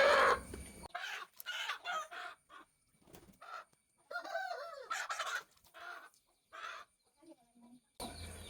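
Chickens being dipped in water for lice treatment cluck and squawk in a string of short, close bursts with brief pauses, fairly loud, with splashy noise at the start and end.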